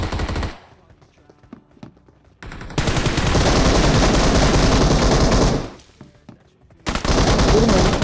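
Bursts of rapid automatic gunfire in an online shooter game, loud sustained volleys separated by short pauses, with a player's voice briefly heard between the shots.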